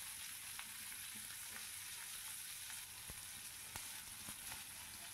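Chopped large onion dropped into hot oil in a frying pan while cooking prawns with taro leaves, giving a faint, even crackling sizzle with scattered small pops throughout.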